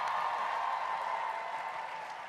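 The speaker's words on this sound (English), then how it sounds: "give Brittany a big round of applause" Audience applause for cosplayer Brittany at the 2020 Crown Championships of Cosplay, a steady wash of many hands clapping at once that holds loud and even for its full length and eases off only slightly near the end.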